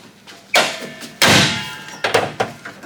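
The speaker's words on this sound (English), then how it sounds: "So confident, I'm gonna shut the hood." A Jeep Grand Cherokee WJ hood slams shut with a heavy metallic thunk, preceded by a smaller knock and followed by a couple of lighter rattling taps, close and loud in a shop.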